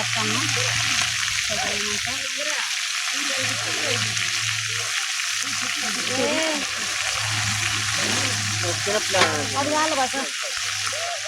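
Steady sizzle of chicken frying in a pan runs throughout, with a person talking intermittently over it.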